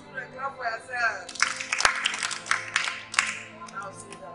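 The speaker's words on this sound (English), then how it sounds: "Wow, children, clap for yourself." Children's applause and clapping bursts from about 1.3 seconds, dense and fairly close, with a voice calling out briefly before it begins, during a Thanksgiving Day gathering.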